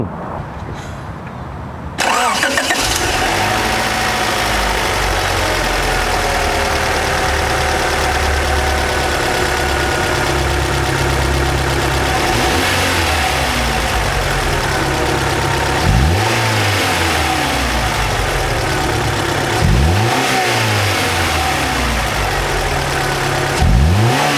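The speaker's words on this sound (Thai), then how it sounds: "มาฟังเสียงเครื่องยนต์กัน" A 1990s Honda Prelude engine starts, then idles with a steady hum, revving up sharply a few times and settling back down, close and loud.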